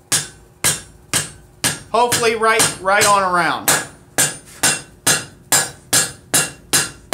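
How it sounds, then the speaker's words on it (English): A leather mallet strikes a stainless steel coil being shaped, giving a steady series of sharp, close, evenly spaced thwacks; someone speaks briefly midway while the blows pause. "I'm going to break out my favorite, the leather mallet, to do my shaping with."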